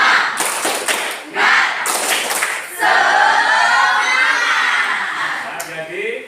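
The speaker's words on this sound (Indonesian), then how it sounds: "Di hitungan ketiga kita memulainya dengan tepuk semangat." A group does a rhythmic spirit clap cheer during a break: sharp bursts of clapping in quick patterned sets, close and loud, followed by crowd chatter and chuckling.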